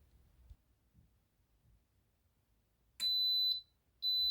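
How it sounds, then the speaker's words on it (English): Quiet low rumble, then two sharp, high electronic beeps from an Instant Pot pressure cooker as it is switched on, each lasting about half a second, close and clear. "that beeping sound means that the Instant Pot is turned on"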